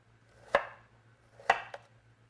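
Two crisp knife chops through an onion on a cutting board, the second followed by a quick lighter tap, each sharp and close against a quiet low hum.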